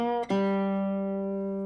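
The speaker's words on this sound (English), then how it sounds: "Another would be a bend" A single plucked guitar note rings out and its pitch shifts upward as the string is bent, then sustains and slowly fades.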